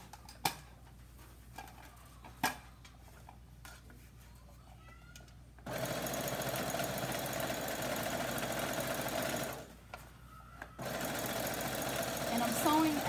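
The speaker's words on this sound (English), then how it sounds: "I'm just going to not talk while I'm sewing" A home sewing machine stitching Ankara fabric for a scarf, first a few clicks and quiet handling, then a loud close steady whirring run that pauses briefly and resumes, with no talk over it.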